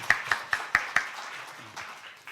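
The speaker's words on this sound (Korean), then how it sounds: "박수로 맞아 주십시오." Scattered hand claps from a small audience at a statistics symposium as a presenter is welcomed, with five distinct sharp claps in a row followed by a few softer, trailing ones in a quiet room.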